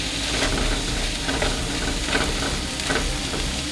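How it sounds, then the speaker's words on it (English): Onions frying in hot oil in a skillet, a steady dense sizzle with faint stirring scrapes, continuous and close with no talk. "I'm going to add some oil and get that nice and hot, and then I'm going to add in all of the onion."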